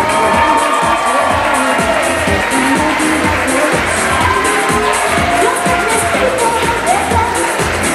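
A loud crowd at a bridal party cheers and shouts nonstop to welcome the bride's father, a dense roar of voices close by for the whole stretch.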